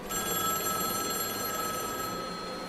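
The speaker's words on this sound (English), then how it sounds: "It was the phone on my side ringing this time." A telephone bell rings loudly and continuously nearby, a bright sustained electronic trill with no voices.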